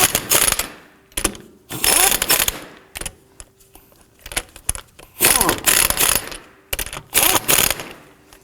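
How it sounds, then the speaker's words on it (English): Lug nuts on the wheel of a 2005-2009 Subaru Legacy being snugged down with a ratchet, bursts of close metallic ratcheting clicks separated by short pauses as each nut is turned. "Let's go ahead and gently snug these down."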